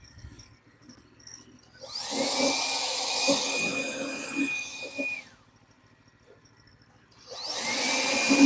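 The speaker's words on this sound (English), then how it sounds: "That electric blower is such a godsend." An electric blower whirs up to a loud steady whine for about three seconds, cuts off, then starts again near the end, heard close with faint knocks in the pauses.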